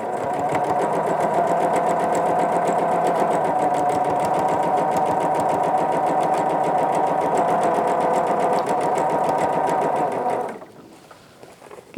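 A sewing machine stitches a concealed invisible zipper with a steady, rapid mechanical whir and rhythmic needle clatter. It runs continuously for about ten seconds, then stops abruptly, leaving near silence.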